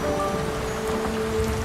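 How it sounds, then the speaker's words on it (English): Steady cold rain falling in an outdoor city square, a continuous even patter with no breaks, heard alone without voices. "The weather had turned cold, with a steady rain falling."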